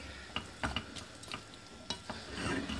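Chicken being stirred with a tablespoon of mayonnaise for a shawarma platter, faint, irregular scraping and clinking taps of a utensil against a pan, with no talking.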